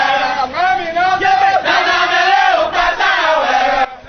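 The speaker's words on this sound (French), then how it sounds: "ces militants engagés ont scandé des slogans annonciateurs d'un triomphe du parti" Crowd of party activists chanting slogans in unison at a political rally, loud and close, rising and falling in rhythmic massed voices for several seconds before a brief break.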